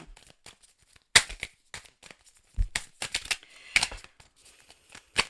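Tarot cards shuffled and handled at close range, with scattered crisp flicks and riffling snaps, soft and intermittent with quiet gaps between.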